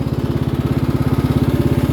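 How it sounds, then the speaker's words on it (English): A small lawnmower engine chugs steadily at close range while being driven, a rapid even putter at a constant pace with no voices. "it makes it harder because you're driving a lawnmower."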